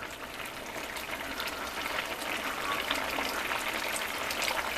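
String beans cooking in a pot give off a steady, close hiss of bubbling and sizzling that holds even throughout with no talk.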